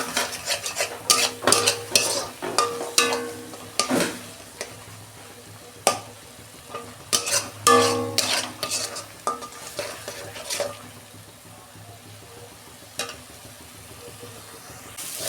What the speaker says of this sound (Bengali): মশলাটা আমি শুকনো করে কষে নিয়েছি।